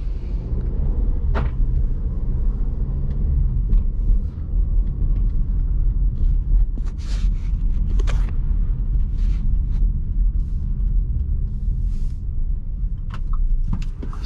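A 2021 Audi Q3 Premium drives on the road, its engine and tire rumble a steady low drone from inside the cabin, with a few faint clicks and ticks over the continuous hum and no talk.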